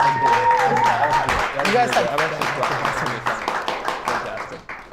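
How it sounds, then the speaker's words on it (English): A studio audience claps and cheers for the contestants of a game-show panel, a dense, steady burst of applause with a voice speaking over it near the start. "So, audience, we get a round of applause for all the contestants."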